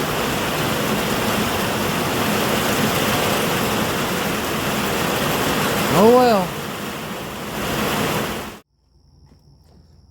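Heavy pouring rain hisses steadily, loud and close, beside a 1983 Ford F150 pickup. Someone speaks briefly partway through, and the rain cuts off abruptly near the end.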